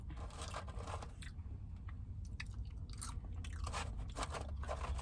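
Steady close crunching and chewing of very crispy, almost burnt bacon, continuous and fairly quiet, with no talking.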